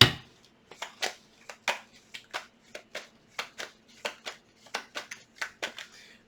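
Tarot cards shuffled by hand, a close, quiet series of about twenty crisp riffling snaps and slaps coming in quick irregular bursts.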